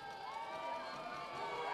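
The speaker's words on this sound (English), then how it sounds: "Crowd getting involved." Crowd cheering at a basketball game, a sustained roar of voices and whoops filling the arena at moderate level, without distinct individual words.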